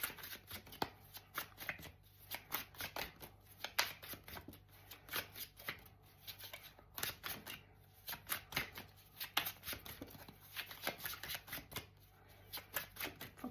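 Tarot cards being shuffled from a deck in a steady run of soft, crisp riffling flutters and taps, close and quiet, repeating for several seconds without talk.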